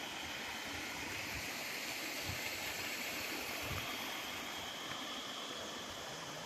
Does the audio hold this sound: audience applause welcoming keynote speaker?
no